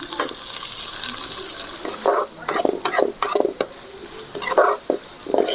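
Chopped cabbage, carrot and other vegetables sizzle in a pan for mixed vegetable rice, a soft steady frying hiss broken by several sharp scraping stirs of a spatula in the second half.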